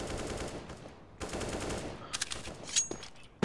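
Rapid automatic gunfire rattles in a competitive match of the video game CS:GO, two long sustained bursts followed by shorter shots and faint background voices.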